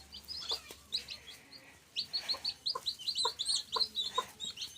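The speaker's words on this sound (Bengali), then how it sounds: "এটা আমাদের প্রথম মুরগি, আমাদের বাসায় আর কোনো মুরগি নেই আমাদের।" A hen from a small backyard flock of thirteen chickens at a rural Bangladeshi home in cold winter weather clucks repeatedly in short, close bursts, mixed with higher chirps; no voices.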